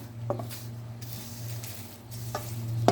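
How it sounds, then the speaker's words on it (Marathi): Curry leaves roast in a pan while being stirred, a continuous sizzle under soft scraping and rustling strokes of the spoon, close up with no talking. "कढीपत्ता भाजलेला आहे."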